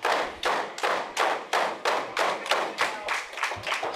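Repeated heavy thuds in a pro wrestling ring, struck about every half second in a steady rhythm, each a sharp close impact with a short broadband decay, no voices over them.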